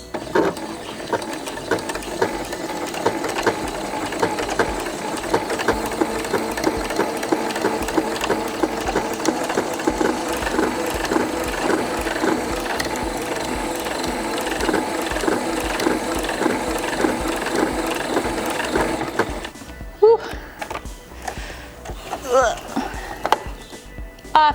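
A domestic sewing machine fitted with a button foot stitches a button onto a boned historical-style garment, a steady rapid mechanical whir and clatter running continuously for about twenty seconds before stopping, followed by a few brief handling sounds.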